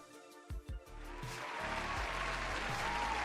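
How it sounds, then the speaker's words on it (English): A small group breaks into a round of applause after a few thumps, clapping building into a steady patter that continues to the end, fairly faint. "Let's give a round of applause."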